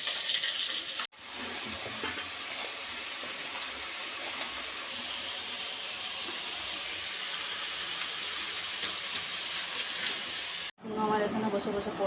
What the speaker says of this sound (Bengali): এই যে এদিকে মাছ ভাজা হচ্ছে, মা এদিকে মাছগুলো ভাজছে